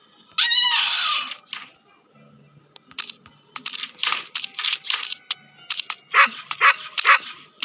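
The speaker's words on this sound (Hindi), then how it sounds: "कुत्ता पागल हो गया है क्या? भौंक मत भाई।" A dog barks in a horror video game, a run of rapid barks in bursts, mixed with clicking sounds and stretches of quiet between them.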